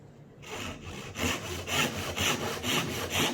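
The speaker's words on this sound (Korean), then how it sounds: "어느 정도 정확히 톱질이 되는지 보도록 하겠습니다" A hand saw cuts a marked joint in wood for a traditional Korean flower-lattice door, in steady, rhythmic back-and-forth strokes, close and moderately loud, with no talking.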